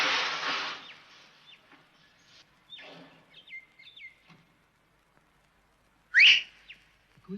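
A whistle sounds in a few faint, brief chirping tones, then a single short, sharp blast rises loudly near the end, with quiet stretches in between.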